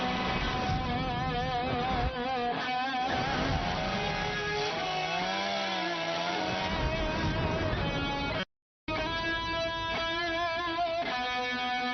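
A chainsaw runs with a buzzing, harmonic engine whine that rises and falls as it revs and cuts, loud throughout apart from a brief dropout near the end.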